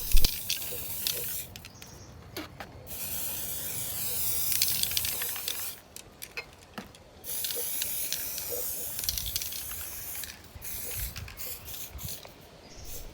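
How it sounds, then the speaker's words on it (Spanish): White spray paint sprayed from an aerosol can onto glass jars and a box: several long, loud hissing bursts of spray, separated by short pauses and lighter rattly spurts, close by, with no talk. "voy a pintar con el mismo spray en blanco 3 frascos de cristal"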